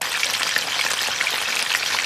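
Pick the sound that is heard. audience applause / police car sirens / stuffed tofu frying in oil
stuffed tofu frying in oil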